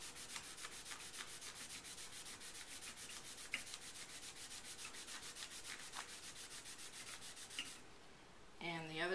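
Pounce bag rubbed steadily across a pottery surface to transfer a drawn pattern, a close, continuous rhythmic scrubbing with regular strokes that stops near the end, followed by a brief voice.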